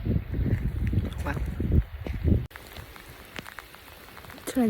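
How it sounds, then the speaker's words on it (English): Heavy rain falls at Cwmorthin, a hiss of drops with some rougher, voice-like sound in the first half, then a steadier patter of rain on a surface, with scattered close drips. "It's raining again."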